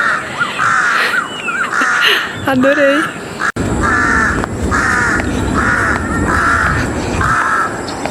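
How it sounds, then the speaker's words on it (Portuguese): A bird in a Bangkok park calls over and over in harsh, rapid caws, loud and close in a steady repeating series, with a person speaking briefly partway through. "O passarinho está reclamando freneticamente ou ele está cantando feliz?"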